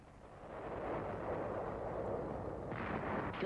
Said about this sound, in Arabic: قصفت مدفعية الألمان خطوط الحلفاء الخلفية